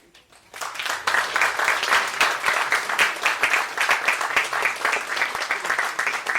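An Easter church congregation bursts into sustained applause after a performance, a steady, dense patter of many hands that starts abruptly and holds at full strength to the end.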